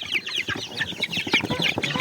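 Chicks clucking and chirping in a busy, overlapping stream of short calls, close and lively throughout.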